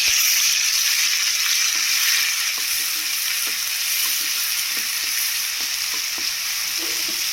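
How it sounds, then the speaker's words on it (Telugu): Masala paste of ginger, garlic, cinnamon, cardamom and poppy seeds frying in oil for kakarakaya pulusu, a steady close sizzle with occasional stirring scrapes throughout, with no talk. "ఆయిల్లో బాగా వేగనివ్వాలండి."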